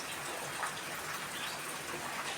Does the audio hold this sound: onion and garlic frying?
no